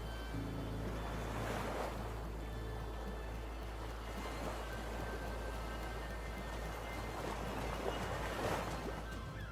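Ocean surf washing steadily onto the sand at Brewers Bay beach in the U.S. Virgin Islands, with broad swells rising and easing every few seconds under a constant breezy hiss, no voices.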